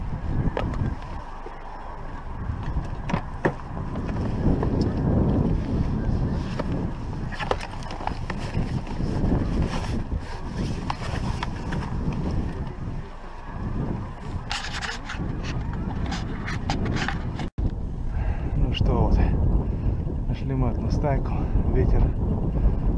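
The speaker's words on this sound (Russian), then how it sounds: "Ветер мне прямо в спину." Steady wind rushes outdoors during a spring snow goose hunt in Canada, a loud broadband roar with microphone buffeting, with people talking over it and a brief cut near the end.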